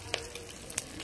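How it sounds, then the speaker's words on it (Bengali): Hilsa fish heads fry in oil with a steady close sizzle, punctuated by a few sharp crackling pops over about a second. "মাছের মাথাগুলো কত সুন্দর লাল লাল করে ভেজে নিয়েছি দেখুন।"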